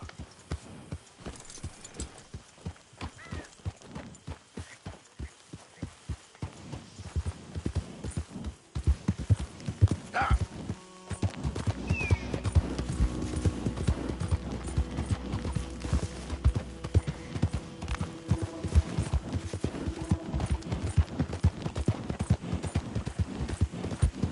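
Steady clip-clop of a horse's hooves in Red Dead Redemption 2, a brisk repeating rhythm over ambient outdoor game sound that thickens into a fuller rumble partway through.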